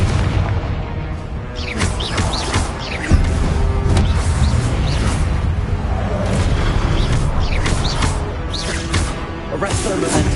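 Repeated Confringo blasting-spell explosions in the Hogwarts Legacy video game, heavy booming bursts recurring every second or so over a dense, loud battle din with layered impacts.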